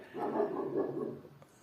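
A dog outside an open window barks a few times in quick succession, muffled and moderately distant, then the sound fades to quiet room noise.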